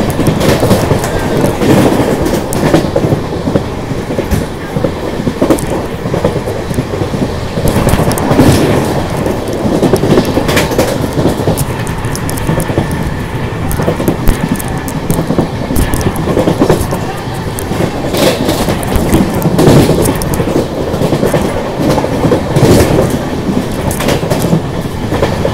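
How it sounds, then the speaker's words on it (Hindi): An Amrit Bharat special train runs at about 110 km/h, skipping a junction on the third line: a loud, steady rush of wheels and rail with continuous clickety-clack, heard close from on board with no talk. "जंक्शन को थर्ड लाइन से स्किप कर दिया है 110 की स्पीड से"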